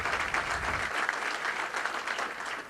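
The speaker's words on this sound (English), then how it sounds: "They need a great round of applause from all of us." Steady applause from a crowd at a citizen of the year dinner, dense clapping that holds at an even level throughout with no talking over it.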